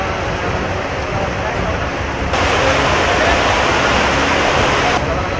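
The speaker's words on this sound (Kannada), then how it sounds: "ಸೇತುವೆಯನ್ನ ನುಂಗಿ ಕೃಷ್ಣೆಯ ಬೋರ್ಗರೆತ" Flooded Krishna river roaring over a submerged bridge, a steady broadband rush of heavy water that grows louder partway through, continuous and close.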